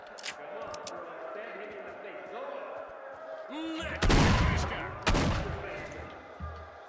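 Shotgun blasts in the game Stalker: Shadow of Chernobyl, two loud booming shots about a second apart standing out over a busy background of game ambience and movement.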